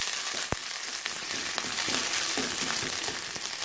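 Steady sizzling of spices frying in a hot pan, with soft scraping and stirring clicks scattered throughout, close and continuous, no voices.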